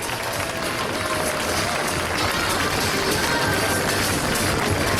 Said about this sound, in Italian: Un forte applauso per la pattuglia Aquila.